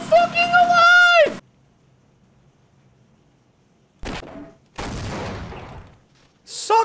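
Bursts of gunfire in the video game Half-Life, a short cluster of loud shots followed by a longer rattling burst, separated by near silence, with a voice speaking at the start and end.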